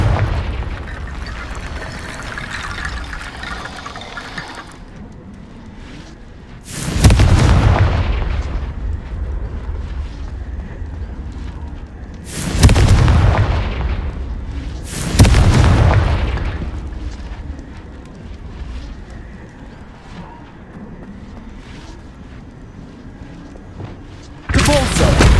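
Several loud booming explosions from the Confringo fire spell in the video game Hogwarts Legacy, with bursts near 7, 13 and 15 seconds and another at the very end, over quieter game ambience and music.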